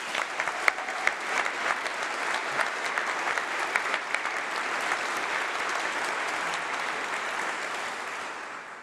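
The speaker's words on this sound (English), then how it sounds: "Huge round of applause to our new doctors." Sustained, loud applause from a congregation crowd for newly graduated doctors, a steady wash of many hands clapping that continues without a break for nearly nine seconds.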